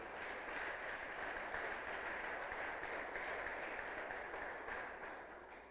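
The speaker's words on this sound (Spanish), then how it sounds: "Vamos a dar un fuerte aplauso al Rey de Reyes," A church congregation bursts into sustained applause during a worship service, a dense, steady wash of clapping that stays loud and even throughout, with no voices on top.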